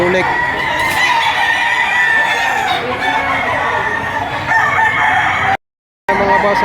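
A rooster crows loudly and repeatedly at an outdoor gamefowl market in Lipa, Batangas, amid a dense crowd din with other birds clucking; the sound cuts out briefly near the end.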